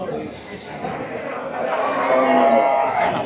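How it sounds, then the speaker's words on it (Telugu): Cattle at a village livestock fair, with cows lowing amid a busy crowd of talking people, the animal calls mid-distance and mixed under the steady chatter. "ఇక్కడ ఆవులు అవి ఉన్నాయి."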